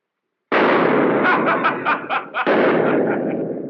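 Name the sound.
gunfire from guns in a 1933 film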